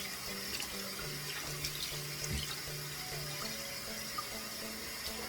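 Tap water runs steadily into a bathroom sink during rinsing as part of a night-time skin care routine, a continuous close splashing wash with some clinks, heard alone.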